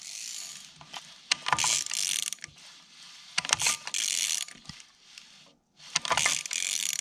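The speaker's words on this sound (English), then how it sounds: "Let's back out this bottom guide bolt." Close ratchet clicking as a timing chain's bottom guide bolt is backed out of an engine, several bursts of rapid pawl clicks separated by short pauses.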